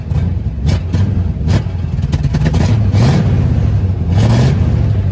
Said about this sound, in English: I'm just going to kind of stab the accelerator and just take a listen